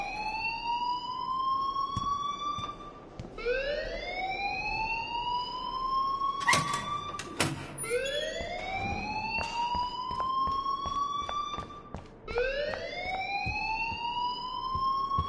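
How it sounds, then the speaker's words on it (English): A fire alarm siren wails inside the video game Life is Strange, each rising sweep climbing and holding before restarting, repeating about four times, loud and steady with a brief clatter midway. "please turn off that alarm since that's your job"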